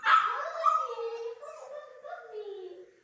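A puppy whimpers and yips up close in a run of high, whiny cries that rise and fall, trailing off into a softer whine at the end.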